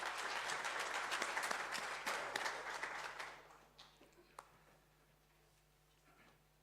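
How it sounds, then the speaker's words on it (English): Warm round of applause from a higher-education teaching and learning conference audience, a steady wash of many hands for about three seconds that thins into a few scattered claps and fades to near silence. "round of applause."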